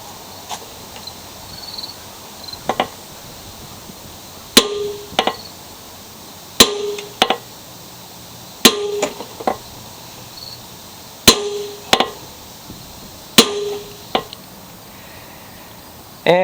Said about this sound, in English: I hit the top of the crankshaft with a hammer